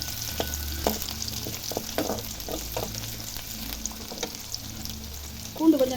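Garlic, onion and curry leaves frying in oil for a dried-fish thokku, a steady soft sizzle with intermittent stirring scrapes and clicks, close and moderately quiet, without any talking.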